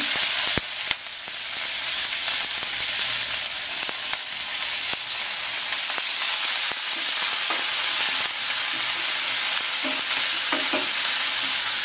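Three medium chopped onions frying with whole cumin in a pan, a loud, dense, continuous sizzle with frequent spatula stirs and scrapes, with no one speaking.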